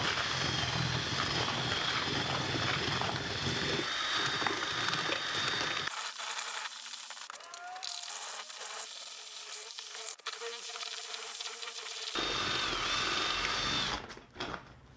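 Foam is mixed into an aircrete mix with a loud, steady motorized whirring that runs almost without a break and changes tone partway through.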